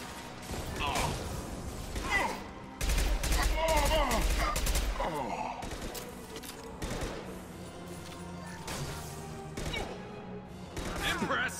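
Dense rifle gunfire from Mass Effect 2 on PC rattles out in rapid bursts and fusillades with heavy, loud impacts, layered with battle effects and occasional in-game speech.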